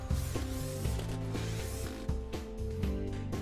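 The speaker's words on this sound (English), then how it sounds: "Now secure using the 6 mirror screws." Screws being driven into a Rev-A-Shelf 3-way soft-close closet mirror give a close, steady mechanical whirring with ratcheting, stepped pitch shifts and brief pauses between runs, and no voices.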